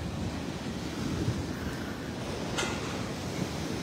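Strong typhoon wind roars steadily and close, a dense, unbroken rush of buffeting noise with no voices.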